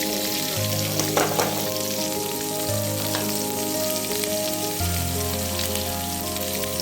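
Shallots, green chillies and curry leaves fry in hot oil for a raw banana stir-fry, a loud, steady crackling sizzle with spattering pops throughout, no talking.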